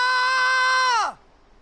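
A loud, sustained high-pitched scream from a character in Final Fantasy X HD, holding steady for about a second before sliding sharply down and cutting off into near silence.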